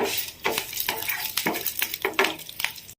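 Oil crackles and sizzles as curry leaves, dried red chillies and other spices fry for tempering, with scraping stirs and a few metallic clinks of a spoon against the pan, fairly close.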